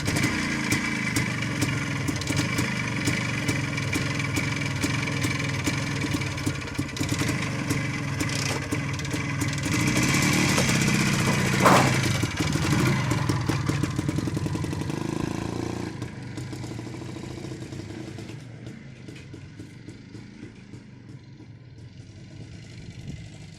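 A small Jawa moped engine runs cold close by, idling with a steady putter, briefly revving louder partway through before settling back to a quieter idle.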